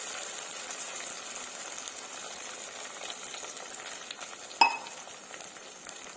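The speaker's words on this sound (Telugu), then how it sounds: "చూడండి ఆనియన్, టమోటా, పచ్చిమిర్చి అలా ఫ్రై అయ్యాయో" Onion, tomato and green chilli fry in a pan for an egg scramble: a continuous soft sizzle with a single sharp clink of a utensil against the pan partway through. No voices are heard.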